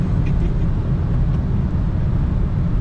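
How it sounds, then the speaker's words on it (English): A 2018 Audi S5 accelerates hard up to 120, a heavy low engine and road roar droning steadily from inside the cabin without letup. "I love cars that can get from 0 to 120 like that"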